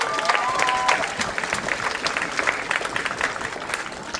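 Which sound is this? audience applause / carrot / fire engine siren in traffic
audience applause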